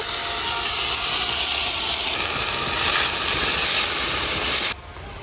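Small fish hit hot oil in a wok already holding potato pieces, giving a loud, steady sizzling hiss that runs for several seconds before cutting off abruptly.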